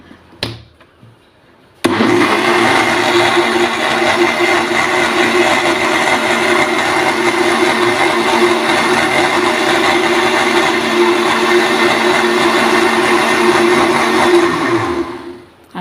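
Electric blender making a banana milkshake with milk, starting abruptly and grinding at a loud, steady whine for about fourteen seconds before winding down, close and alone.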